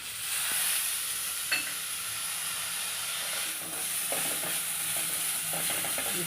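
Tomato and poppy seeds frying on low heat in a pan for Mandya-style mutton sambar, a steady close hissing sizzle with a scrape and scattered light stirring clicks, no speech.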